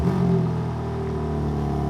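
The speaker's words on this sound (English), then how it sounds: "let's just do one last stock startup." A stock BMW M2 engine just after startup, a loud steady idle with a deep rumbling drone and a slight flare at the start, heard close by with no talking.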